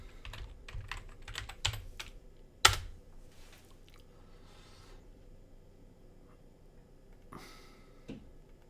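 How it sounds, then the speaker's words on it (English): Typing on a computer keyboard sounds as bursts of crisp, close key clicks in a quick irregular rhythm, with one loud sharp strike, then a quiet pause and a couple of final taps, without speech. "Let's just type that in."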